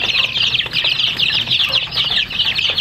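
Three-week-old native chicks, black and white, and Rhode Island Red chicks cheep and cluck together in a dense, continuous, close chorus, with some wing flutter and no talking.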